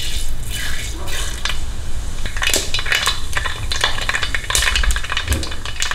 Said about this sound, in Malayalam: അപ്പോൾ നമുക്ക് കടുകിടാം.